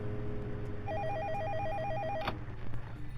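A phone rings in the Five Nights at Freddy's demo video game, a trilling warbling electronic ring lasting about a second and a half over a low humming background, close and clear, then cut off.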